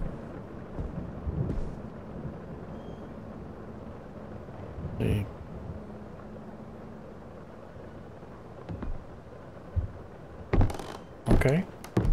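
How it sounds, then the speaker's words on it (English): Thunder rolling through a storm in the horror game Visage, low rumbles recurring across the stretch with sharper cracks near the end, under steady rain-like ambience and an occasional voice talking. "Serious lightning out there."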